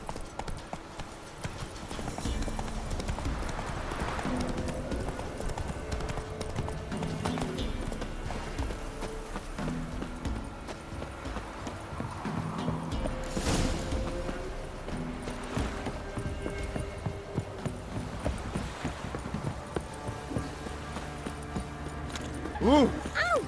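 Horse galloping in The Witcher 3, a quick, steady clip-clop of hooves running through the whole stretch at moderate loudness, with a voice and scattered game sounds over it.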